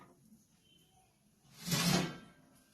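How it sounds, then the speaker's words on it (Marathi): A lid set down on a modak steamer pot resting on a kadhai while steaming udid vade: one soft metallic clunk and scrape in an otherwise quiet kitchen. "याच्यावर झाकण झाकायचं"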